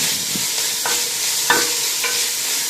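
Green chillies and curry leaves fry in a pan for a dry chicken dish, with a continuous close sizzle and a few short scraping stirs, and no voices.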